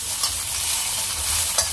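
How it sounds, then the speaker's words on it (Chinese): Chicken stir-fried in a hot wok for a soy sauce chicken dish makes a loud, steady sizzle close up, with a couple of brief scraping stirs and no talking. "爆香佢，等佢嗰啲雞嗰啲腥味冇咗"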